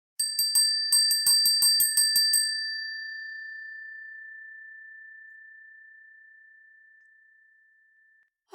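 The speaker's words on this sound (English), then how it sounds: "All right, let's ring my bell" A small bell rings in a quick series of bright dings, then one sustained clear tone slowly fades out over several seconds in a quiet room.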